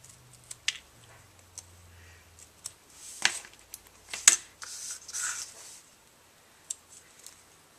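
Scissors snip out three more pieces for a tissue box cover, making faint scattered clicks and scrapes with brief rustling in between. A low hum fades early on.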